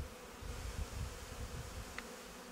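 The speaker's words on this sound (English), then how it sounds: "that's a massive quantity of bees" A dense, low hum of many honey bees buzzing close up on a hive frame, steady and continuous, with a faint click partway through.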